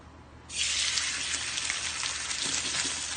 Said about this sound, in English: Go ahead and fry her salmon skin side down.